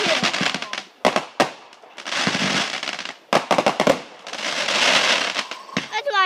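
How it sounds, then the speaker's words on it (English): Memorial Day fireworks go off in loud, sharp bursts followed by long crackling showers, several volleys close by with brief gaps between, and voices in the background. "There's a lot of fireworks shoot, and that was super loud."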